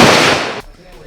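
A Kalashnikov rifle fired at a shooting range at the Cu Chi Tunnels in Vietnam, one very loud close crack with a brief rough decay that cuts off abruptly.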